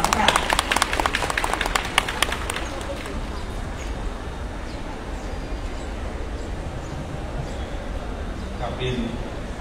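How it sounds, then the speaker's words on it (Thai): A burst of dense, rapid applause from a crowd greeting a guest onto the stage at a Thai island tourism promotion event. The clapping fades after about three seconds, leaving room noise. "ขอเสียงปรบมือต้อนรับท่านยุทธศักดิ์สุขสอนค่ะ"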